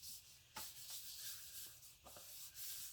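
Hand rubbing across a bullet journal page, a soft continuous papery friction with a few brief scuffs and taps, close and quiet.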